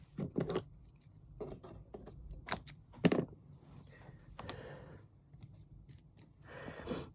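Scissors snip washi tape in a few soft, close clicks and short cutting bursts, scattered among quiet handling noises with no talking.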